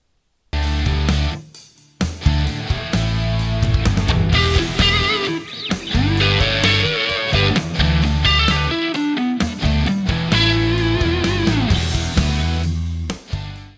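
An electric guitar plays a distorted rock solo phrase an octave higher. The notes are loud and sustained with bends and fast runs, filling the whole stretch.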